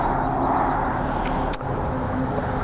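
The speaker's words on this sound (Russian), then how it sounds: "сейчас машина проедет" Car passing along a highway beside the road, a loud steady wash of tyre and engine roar filling the whole stretch with no break, brief faint tick partway through.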